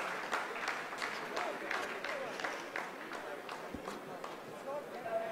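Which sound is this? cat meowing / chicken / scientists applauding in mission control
scientists applauding in mission control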